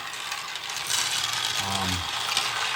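Working 3D-printed two-wheeler marble machine with marbles, giving a continuous busy clatter and rattle of rolling, dropping marbles and turning plastic parts, with one brief low tonal thud near the end.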